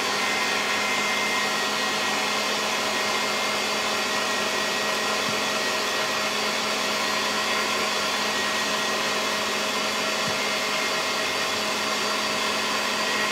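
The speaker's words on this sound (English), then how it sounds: "You have to keep your mixer on." Electric hand mixer beating boiled frosting for a coconut cake, a steady close whirring hum that runs unbroken throughout with no talking.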